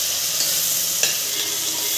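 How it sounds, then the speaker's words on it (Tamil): Onion and tomato sautéing in a pan for chicken kuruma, a steady close sizzle with a brief stir or scrape partway through. "ஒரு பெரிய வெங்காயம் போட்டு தாளிக்கிறதுக்கு"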